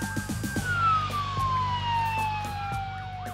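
Emergency vehicle sirens wail in Dubai during a response to a construction vehicle accident, a loud, steady tone slowly gliding downward in pitch with short bursts of other noise beneath, no talk.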